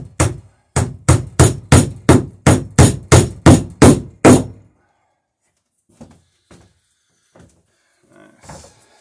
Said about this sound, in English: Put this nail in and then we'll go back and trim the stern.